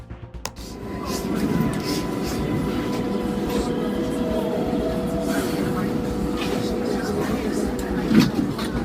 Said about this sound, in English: This is a Brooklyn Bridge-bound 6 train.